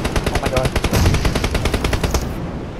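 Rapid automatic gunfire in PUBG Mobile, dense evenly spaced shots rattling close and loud across the whole stretch, cutting off near the end.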